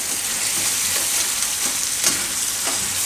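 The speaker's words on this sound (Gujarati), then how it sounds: "હલાવતું રહેવાનું એટલે તરીએ ચોટે નહીં" Pav bhaji gravy stirred in a pan as it cooks, a continuous bright sizzle with soft scraping strokes of the spoon, close up and steady, with no voices.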